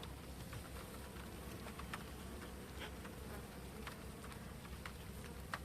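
A steady, dense buzzing of many honeybees inside the hive, fairly faint and continuous, with no voices.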